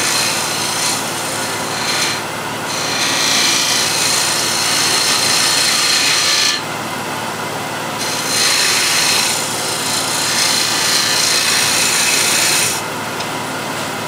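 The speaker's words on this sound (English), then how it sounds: "So this is 10 mil spindle gouge, and just get into all of these beads." A 10 mm spindle gouge cuts beads into wood spinning on a lathe, giving a continuous loud scraping hiss that swells and eases in long passes, with brief quieter gaps between cuts.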